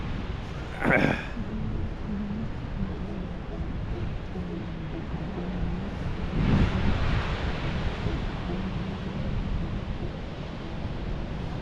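Steady broadband rush of Atlantic Ocean surf and wind at Rockaway Beach, continuous throughout, with a couple of brief louder bursts and no clear speech.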